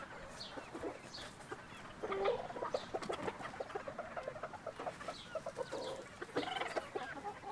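Several backyard hens cluck and murmur in short, scattered bursts near a feeding spot under a roof. The calls are close and fairly quiet over a low ambient hum, with no talk.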